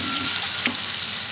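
Onion frying in oil in a pan, a steady close sizzle with a brief stirring scrape partway through, no voices.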